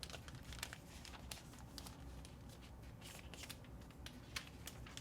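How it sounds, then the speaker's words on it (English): Protective plastic peeled off iPad Pro 2020 packaging, a faint close crinkling and rustling with sharp crackles and small tearing bursts scattered throughout. "it's covered in plastic that you need to peel off"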